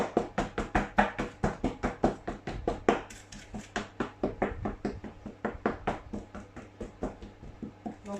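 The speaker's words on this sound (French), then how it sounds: "ce que je fais, c'est que je pique ma pâte" A fork pricks rolled pastry dough pressed into a tart tin for an apple tart, making a close, steady run of quick, light taps, about three per second, repeated evenly throughout.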